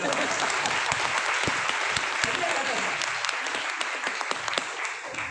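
A crowd of audience members claps in a dense, steady round of applause that holds for several seconds at even loudness, with faint voices mixed underneath.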